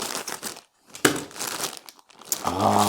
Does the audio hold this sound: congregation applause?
no